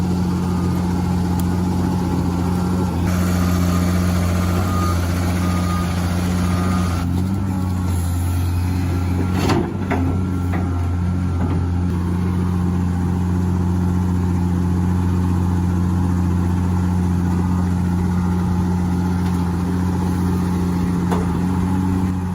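A mini excavator's engine runs steadily and loudly while the machine sits stuck in deep mud with its tracks buried, a constant mid-pitched drone with slight shifts in load and no voices.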